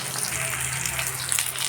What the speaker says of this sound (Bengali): তেলের মধ্যে আলুগুলোকে একটু লাল করে ভেজে নেব